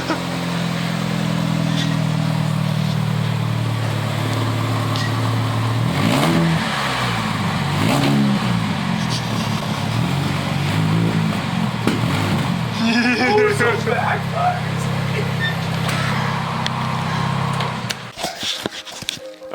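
A loud, rough car engine with a split, leaking exhaust idles and revs several times, rising and falling in pitch with a raspy, rattling exhaust tone before cutting off near the end.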